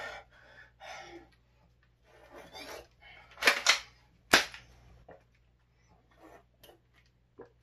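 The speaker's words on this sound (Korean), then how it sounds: "한 손으로만 장전하고 총쏠수 있어" A gun is loaded one-handed and fired: soft handling rustles and breaths lead into two sharp, loud cracks close up, then quieter clicks and shuffling.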